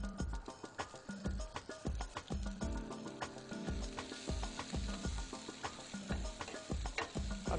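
Green onions sauté in sesame oil in a pan, with a steady sizzle and frequent rhythmic scrapes and taps of a utensil stirring against the pan, close and without talk.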